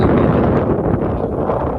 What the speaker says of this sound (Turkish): Rüzgar çok geliyor.